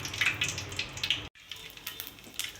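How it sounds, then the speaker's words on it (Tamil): Mustard seeds spluttering in hot oil in a kadai, a close, crackling sizzle with scattered sharp pops, briefly cutting out midway before resuming. "கடுகு நல்லா பொரிஞ்சு வருது."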